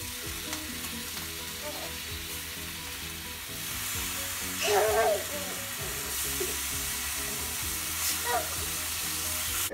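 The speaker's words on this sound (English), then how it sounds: "we're gonna add our bacon to a really hot skillet here, because we're gonna render out the fat" Bacon rendering its fat in a really hot skillet gives a steady, close sizzle for the whole stretch, with stirring scrapes and a few louder crackling bursts.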